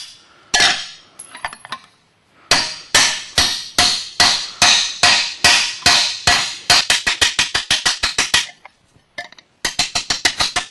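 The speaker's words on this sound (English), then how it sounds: "I've got a brass piece here and a brass hammer. We use brass when we're doing this because it's pretty solid, so when we hit it we can actually bend this metal" A brass hammer strikes a stainless steel boat propeller during repair, landing loud, ringing metallic blows in quick steady runs separated by short pauses, the pace speeding up toward the end, with no talk.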